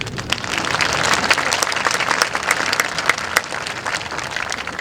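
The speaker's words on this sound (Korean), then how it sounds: "박수 한번 쳐야 되는데." Crowd applause at a ceremony marking ten years since the Gyeongsangbuk-do provincial office moved, dense continuous clapping from a large audience at a steady, fairly loud level.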